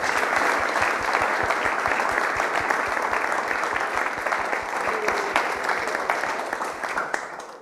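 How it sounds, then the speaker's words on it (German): Sustained audience applause for guests at a school project event, steady dense clapping that goes on throughout and fades a little near the end. "Ich möchte noch mal ein großes Applaus für unsere Gäste bekommen."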